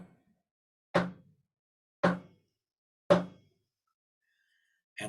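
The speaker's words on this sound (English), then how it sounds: "2 fast wooden hits followed by 3 slow wooden hits." Wooden knocks in a chanting class sound three times at an even, slow pace, each a sharp, dry hit that dies away quickly into silence, with the start of another at the very end.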